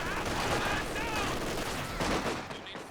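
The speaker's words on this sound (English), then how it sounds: "Paul, you know, getting that machine gun suppressing" Machine gun suppressing fire in Company of Heroes 2, rapid bursts chattering steadily at moderate volume with battle noise around, tapering off near the end.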